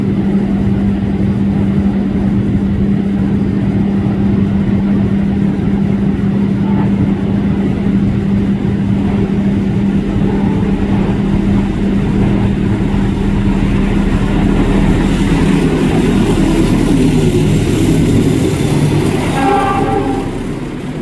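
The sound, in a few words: Taksaka train passing by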